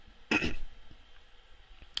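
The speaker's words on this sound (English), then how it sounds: "I'm just going to clear my throat for a second here." One brief, harsh throat clearing close up, then quiet room noise.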